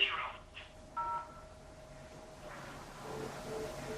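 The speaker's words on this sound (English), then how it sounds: "So I want to contact reception, so I'll dial 0." Telephone keypad tones dial zero on an automated phone menu for reception: a couple of short, clear beeps near the start, then a low hiss of line noise with no voice.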